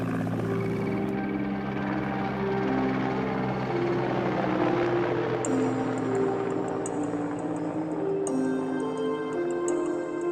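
A helicopter flies over a mountain valley in the Caucasus of Georgia, its steady droning rotor hum filling the air continuously and loudly, with a higher whine joining partway through.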